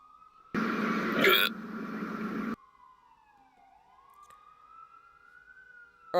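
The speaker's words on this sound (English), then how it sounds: "we'll move on after the siren passes" A siren from an emergency vehicle passing outside, a steady wailing tone that slowly bends down and back up, heard through a room with a loud burst of nearby noise over it early on.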